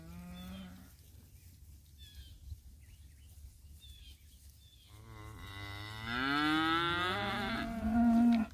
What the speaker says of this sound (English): The bulls are coming in.